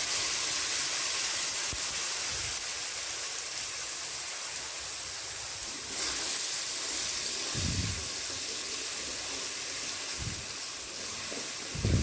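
Spice paste being sautéed in a pan for milkfish and bamboo shoot curry, a continuous loud sizzle and steamy hiss with a few short louder bursts of bubbling.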